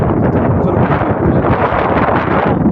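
Strong, cold wind blows across farmland by the Spiti River at Kaza in the Spiti Valley, roaring loudly and continuously with gusty buffeting against the microphone.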